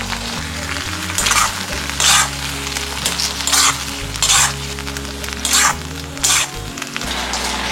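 Chicken Manchurian balls frying in a pan of sauce with ring onion, a steady close sizzle broken by repeated rhythmic bursts of stirring scrapes, no talking.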